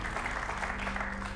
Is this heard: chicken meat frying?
no